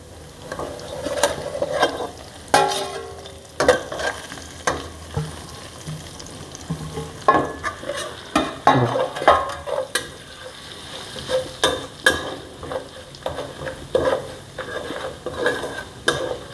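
A spoon scrapes and stirs spices together in a hot pan for onion chutney, with irregular clinks and scrapes over a faint sizzle, close and fairly loud, and no talking.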